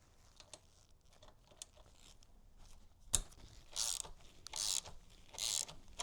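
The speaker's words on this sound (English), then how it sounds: "So it's going to loosen this one up." Wrench loosening exhaust bolts on a 2024 Yamaha MT-09 motorcycle, quiet close clicks and scrapes followed by a sharp knock and several loud ratcheting bursts.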